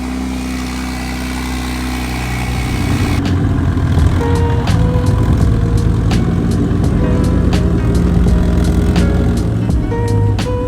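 A BMW N54 car engine starts up loud and rough, settling into a steady idle with clicking and ticking noises over the running motor.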